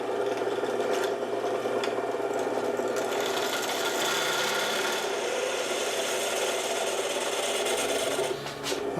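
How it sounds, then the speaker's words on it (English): A hand tool files out and enlarges holes in a Vierbike Quadra Sprint bike part, a continuous close rasping scrape that runs steadily for several seconds before stopping, with no talk. "we're going to open these holes up a little bit bigger."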